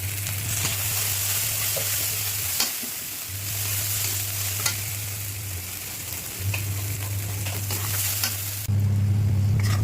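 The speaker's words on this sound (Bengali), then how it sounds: "মশলাটা আমার কষানো হয়ে গেছে। দেখো তেলটা ছেড়ে দিয়েছে।" Spiced masala paste for a Bengali rohu fish and taro curry sizzles steadily in hot oil while being stirred, a close, continuous frying hiss broken by brief scraping strokes, with no talking over it.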